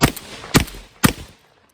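Three loud, sharp blasts from a Remington 11/87 12 gauge semi-automatic shotgun firing Sterling Tornado slugs at 25 yards, evenly spaced about half a second apart, each with a short decaying outdoor echo.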